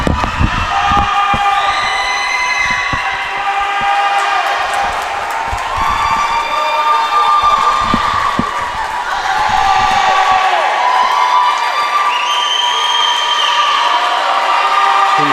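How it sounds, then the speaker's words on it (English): At a high school swim meet on senior night, a crowd in an echoing pool hall cheers on a Stoughton swimmer, with shouts and whoops rising and falling continuously over splashing and occasional sharp bangs. "And Stoughton swimmer getting a ton of encouragement from the crowd"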